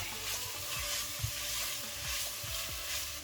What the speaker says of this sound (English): And give that a good little fry.